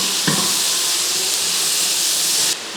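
Onion and tomato fry in a pan under a loud, steady hiss, with a brief clack of stirring near the start; the sizzle runs continuously and drops slightly at the very end.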